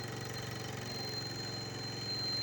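A vehicle engine approaching a speed breaker on a road: a steady, rumbling idle-like drone with rhythmic pulsing that grows slightly louder toward the end, with no speech over it.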